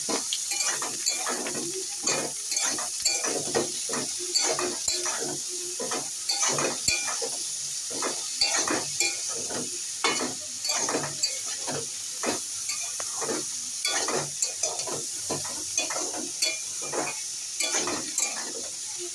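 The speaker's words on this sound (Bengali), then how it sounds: "আমার আলুগুলো ভাজা হয়ে গেছে, এবারে আমি ঝিঙেগুলো দিয়ে দেবো।" Ridge gourd and fried potatoes sizzle in a pan while a spatula stirs them, steady rhythmic scraping strokes over a constant close frying hiss.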